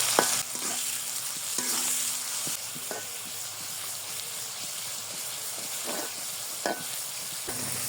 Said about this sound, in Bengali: টমেটো আর পেঁয়াজ ভালো করে ভাজা ভাজা করে নেব